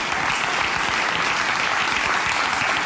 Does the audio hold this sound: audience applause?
yes